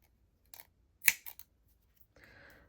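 Scissors snip the yarn tails on a crocheted motif, giving a few short, quiet dry clicks close by, followed by a soft rustle of yarn.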